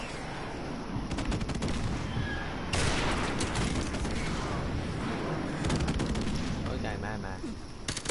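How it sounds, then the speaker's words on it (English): Bursts of rapid gunfire and heavy explosions from a friendly airstrike fill a Modern Warfare Remastered match, loud and dense with several blasts, under excited voices. "Friendly airstrike on the way"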